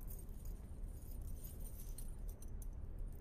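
A pendant on a chain is put on, giving a soft, continuous metallic jingle that stays faint and close throughout, with no talking.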